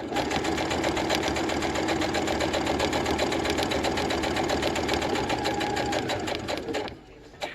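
Sewing machine stitching a fabric face mask, a loud steady rapid whir of needle strokes running continuously for about seven seconds before stopping abruptly near the end.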